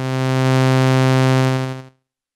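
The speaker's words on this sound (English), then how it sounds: "saw," A Malekko Manther synthesizer oscillator plays a sustained sawtooth wave, one bright, buzzy, harmonically rich steady tone held for under two seconds and then cut off, heard alone with no talking.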